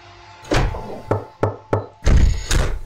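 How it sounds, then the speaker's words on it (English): Several sharp knocks on a door in a horror video game, a few spaced single raps followed by a heavier double knock, loud and close against a low ambient hum. "How was the door being knocked when..."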